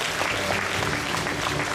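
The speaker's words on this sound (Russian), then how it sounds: "Ваши аплодисменты." Audience applause at the Impulse of Good 2019 award ceremony for social entrepreneurs, a brief, dense burst of many hands clapping evenly throughout, fairly close and full.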